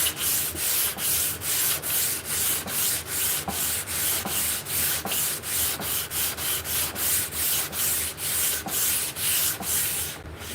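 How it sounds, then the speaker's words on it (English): Rhythmic back-and-forth hand sanding of an oak cane with a strip of 120-grit sanding belt, each stroke a loud, close, raspy scrape in a steady, even tempo with no talking. "This is a 120 grit, but this is off of a belt sander."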